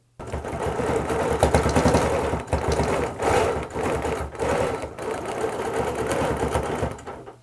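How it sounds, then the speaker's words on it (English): Sewing machine stitching a quilt, worked upside down and backwards, runs in steady close-up bursts with a dense rapid needle rhythm, pausing briefly a few times before starting again. "I can put my needle down and I can start sewing."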